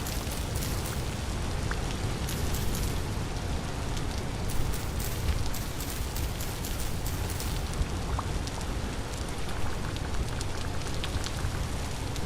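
Steady rain falls in the Vintage Story survival game, a dense continuous hiss with constant patter that stays even and unbroken throughout, with no voices over it.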